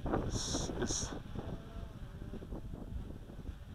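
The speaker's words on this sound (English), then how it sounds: "the wind is too strong right now" Strong gusts buffet the microphone during a Walkera QR X350 Pro quadcopter flight with propeller guards fitted, a steady rumbling roar with a couple of brief brighter bursts near the start.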